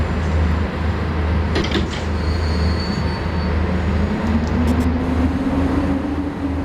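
A train in the SimRail simulator moves forward as a steady, loud rumble with a rising low tone and a few clanks on top, continuous throughout and with no talking.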